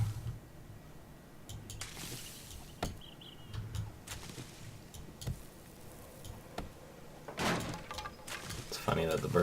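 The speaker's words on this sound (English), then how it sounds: "It's funny that the bird's nests sound like you're breaking boards." Bird's nests are broken apart in the game 7 Days to Die, producing a series of sharp, woody cracking hits like boards snapping, spaced irregularly and fairly close, with a denser clatter toward the end.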